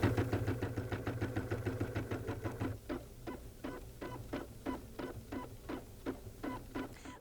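An embroidery machine stitches an outline in pink thread, a rapid, even mechanical chatter of needle strokes with a motor hum that drops in level partway through.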